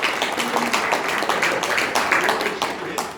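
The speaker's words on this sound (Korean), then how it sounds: "한번 좀 박수 한번 좀 쳐주시죠" A seated audience at a Lions Club Quest promotional briefing in Korea claps in a brisk, dense burst of applause, with a voice speaking over it.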